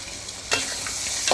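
Carrot, beans, potato and peas sauté in a pan with onion and tomato, a soft steady sizzle broken by two brief louder scraping stirs, close and without talk.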